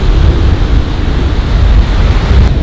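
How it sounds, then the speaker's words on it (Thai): Strong wind and heavy surf at a beach on a very windy day roar loudly and continuously, with deep rumbling waves and buffeting wind noise on the microphone, no voices. "แต่วันนี้ลมแรงมากเลยอ่ะแล้วก็คลื่นแรงมาก"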